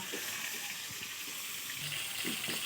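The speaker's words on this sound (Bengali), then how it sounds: "এইভাবে মাছটাকে ভেজে নেব।" Silver carp pieces sizzle in hot oil in a pan on an outdoor clay stove, giving a soft, even hiss with light crackles that runs unbroken and fairly faint.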